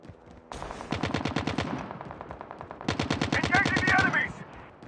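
Automatic gunfire in a video game firefight: two loud, rapid bursts of rhythmic shots, the second longer and layered with extra crackle, close and dominant.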